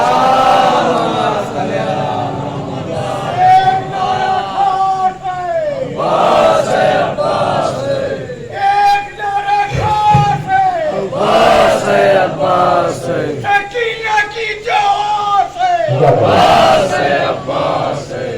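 A gathered religious audience chants salawat aloud in unison, a loud, sustained crowd recitation of rising and falling voices filling the space.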